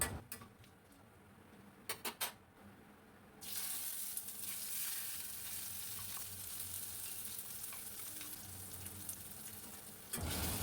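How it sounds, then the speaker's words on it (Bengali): Spice paste dropped into hot mustard oil with cumin, bay leaves and dried chillies, a few clinks of a utensil, then a sudden loud, steady sizzle that continues under occasional stirring scrapes. "অল্প নাড়াচাড়া করে মশলার পেস্ট আমি পুরোটা দিয়ে দিলাম।"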